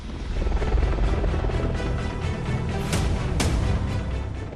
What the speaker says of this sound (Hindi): दुनिया का सबसे आधुनिक अटैक हेलीकॉप्टर।